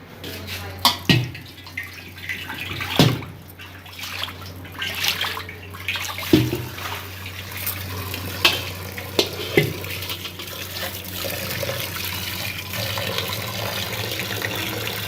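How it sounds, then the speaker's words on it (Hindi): Small meat pieces are washed by hand in a vessel under running water, with a steady flow and sharp splashes and clatters as the pieces are moved about, close by. "इसको फिर धो लेना है।"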